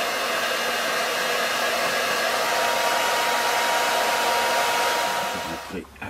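A hair dryer blows hot air onto a plastic hose from a Dometic camper-van fridge, a loud, steady whooshing roar close up that dips and cuts off at the very end.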